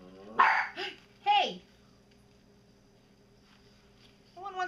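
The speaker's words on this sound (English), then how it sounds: "No one wants to hear you bark" A puppy gives a few short, high yips and barks close by, mixed with a sharp spoken exclamation, followed by near silence and another brief bark-like sound at the end.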